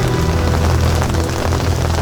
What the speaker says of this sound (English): it starts raining a little bit